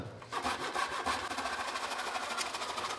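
Hand saw cutting through a piece of wood during formwork building, a fast rhythmic back-and-forth rasp of repeated strokes, close and loud, with no talk.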